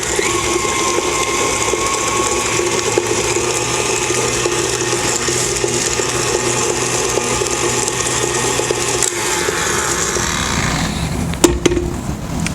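Electric mixer whirring steadily through blueberry muffin batter with vanilla added, a continuous close, loud drone that holds for about eleven seconds before a few clattering knocks at the end.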